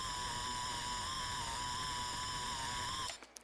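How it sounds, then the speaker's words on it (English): A harsh, heavily distorted synth tone drones steadily with a gritty, buzzing edge, then cuts off abruptly near the end. "It's a distortion plugin. It makes shit sound really crazy."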